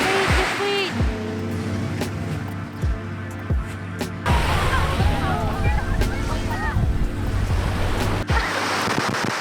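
Ocean surf on a beach at Nasugbu, Batangas, a steady loud wash of waves with wind buffeting the microphone and a few thumps nearby.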